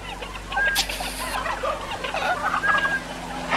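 A voice imitates turkeys gobbling in the 1972 film Blood Freak. The warbling, bubbly gobbles run continuously and loudly over a steady background hum, with no plain speech.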